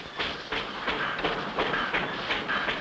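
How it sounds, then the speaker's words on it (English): A little mountain train runs along its rails at the Whirlycog station, giving a steady, close rumble with a regular clickety rhythm that repeats about every half second. "How do you like this little train, Spinner?"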